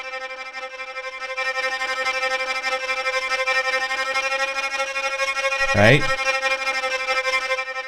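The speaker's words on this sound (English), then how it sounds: "You get a sound like this, and you put it through a distortion, like an actual amp simulator." A sustained, harmonically dense tone pushed through an amp-simulator distortion, dark and droning in the style of the Terminator 1 score, holds steady throughout with a brief sweeping glide near the end; a voice speaks briefly.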